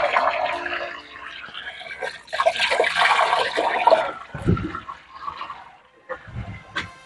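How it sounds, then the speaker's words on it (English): Water running into and draining out of a catfish hatchery tank, a steady splashing, trickling flow close by with gurgling surges and a brief pause near the end. "we are running in water and running out water"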